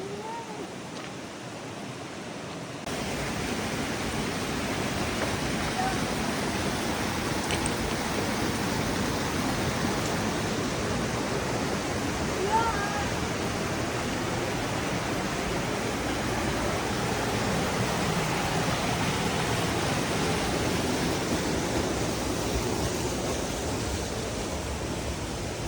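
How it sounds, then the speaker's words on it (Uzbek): Kelin fatasi waterfall roaring as a constant broad rush of falling water, quiet at first and then steady and enveloping for the rest of the stretch. "Kelin fatasi nomli sharsharaga."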